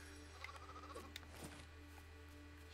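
A sheep in a Lego video game bleats once, a short, faint wavering cry over a low steady hum, with no talk.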